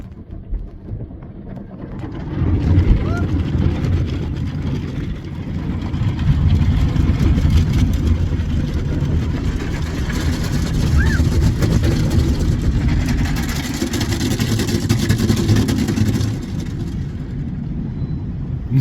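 An automatic car wash runs around a car, its brushes, spray and blowers making a steady, loud rumbling roar with washing noise that swells after a couple of seconds and carries on evenly, heard from inside the vehicle.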